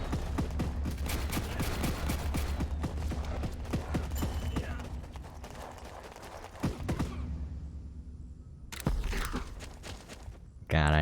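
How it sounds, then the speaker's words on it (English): Rapid bursts of gunfire from the strategy video game Warpips, steady and dense for about seven seconds before thinning out, with game sounds continuing underneath and a voice talking over it. "I feel like the accuracy of this gun is very low."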